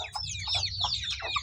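A mother hen with her small chicks clucking in soft, repeated calls while the chicks peep in high, rapid chirps, all close and continuous.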